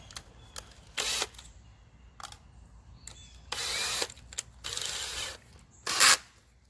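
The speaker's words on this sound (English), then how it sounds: "Drill my next hole." Several short bursts of a power drill whirring close up, drilling holes for a Mighty Mount installation, each lasting about a second, separated by clicks and handling noises in a quiet room.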